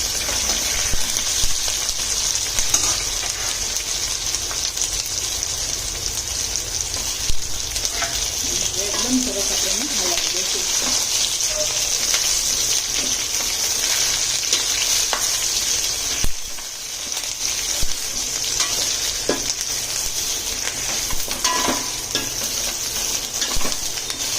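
Methi palak balls tossed into a pan of sizzling tempering with curry leaves and slit green chillies, giving a steady, loud frying hiss with stirring scrapes throughout.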